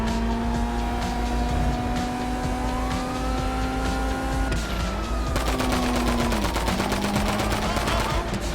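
Rapid gunfire in a video game aimed at a police car during a robbery, a dense crackling burst over a steady engine drone and a wailing siren, loud and continuous.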